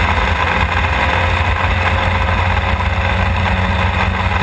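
Historic Formula Ford race car at Thruxton, its engine a steady loud continuous drone heard close and unbroken throughout.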